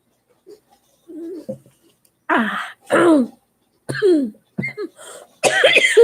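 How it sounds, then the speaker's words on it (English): A series of rough, dry coughs and throat clearing from a throat strained by long talking, up close, in uneven bursts with brief pauses, growing more forceful at the end. "Don't mind my coughing."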